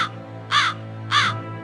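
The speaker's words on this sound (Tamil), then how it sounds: "அந்த காட்டுல காக்கா ஒண்ணு இரை தேடி பறந்து வந்துச்சு." A crow caws three times, loud and close, each call a harsh drawn-out rasp with a steady pause between, alone over a low constant hum.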